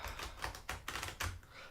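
Old, well-worn tarot cards over twenty years old shuffled by hand, giving a run of soft, close, irregular slaps and flicks at a moderate level with no talking.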